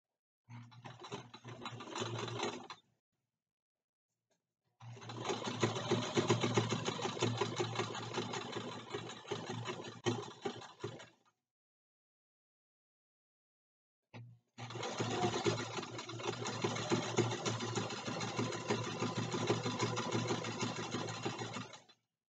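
A sewing machine stitches fabric in three steady whirring runs, close and fairly quiet, with short silent pauses between runs where the fabric is pivoted.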